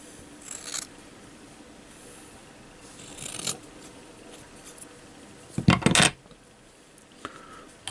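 Scissors snip cotton wick to width for a Digiflavor Mesh Pro RDA: a few short, crisp cuts spaced apart, faint at first, with a louder, longer snip near the end.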